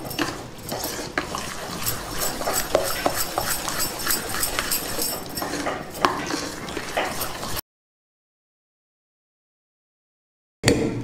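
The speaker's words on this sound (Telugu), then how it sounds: "సన్నగా తరిగి పెట్టుకున్న క్యారెట్ ముక్కలు కూడా వేసుకుందాం. దీన్ని బాగా కలుపుకుందాం." Chopped onion and carrot being stirred into a yogurt chutney, with close, soft wet squelching and spoon scrapes for several seconds, then a stretch of silence and a brief clink at the end.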